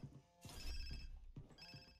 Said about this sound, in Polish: Telefon to chyba mój jest